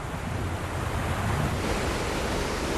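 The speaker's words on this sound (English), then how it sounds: "Every minute, 36 million gallons of water flow over the falls into the raging Niagara Gorge." Niagara Falls pours a huge volume of water into the Niagara Gorge, making a steady, dense roar with surf-like rushing and wind noise that holds without a break throughout, loud and close, with no voices.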